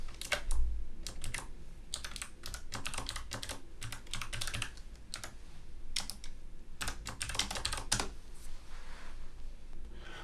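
Close keyboard typing of code for a React on Rails sign-up form, a continuous stream of quick, light keystrokes with a few short gaps, steady and unaccompanied by speech.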